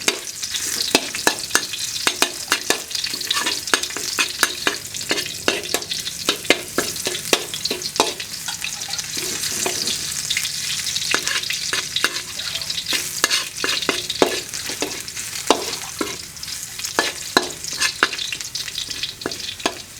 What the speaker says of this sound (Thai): แล้วเราก็จะผัดกระเทียมนะครับ ลงไปน้ำมันให้หอมก่อนนะครับ